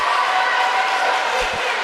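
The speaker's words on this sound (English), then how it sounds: "a nice little cheer and a burst of energy for the crowd and the Pacer bench" A home crowd at a women's college basketball game between WPU and Pfeiffer University gives a short burst of cheering in a gym, loud and steady throughout, with a couple of faint thuds near the end.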